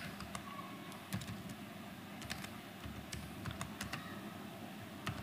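Fingers type on a computer keyboard during data entry, giving quiet, close, irregular clicks and taps in short bursts over a low room hum.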